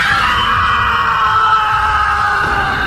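A loud, sustained scream fills the whole stretch with a strained, continuous cry, as if coming over a phone line.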